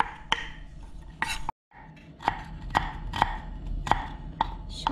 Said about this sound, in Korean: 당근도 썰고요